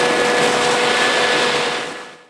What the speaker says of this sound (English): and the vacuum, it sucks up anything